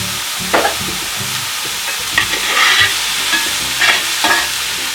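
Cut onions fry in oil in a pan for a chicken curry, a steady close sizzle broken by repeated scraping bursts as a spoon stirs them around.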